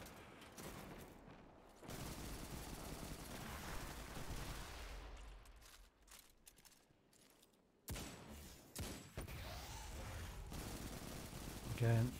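A heavy weapon fires a long stream of rapid rounds inside a video game lost sector, a dense, sustained roar of gunfire that briefly drops out before resuming, with a voice talking over it.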